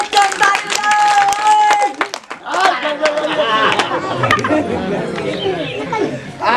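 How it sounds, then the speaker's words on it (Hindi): Children clap along at a street snake-charmer's show, scattered sharp claps rising over lively chatter and children's voices, with an adult voice speaking loudly near the start. "ताली बजाओ बच्चों, ताली बजाओ"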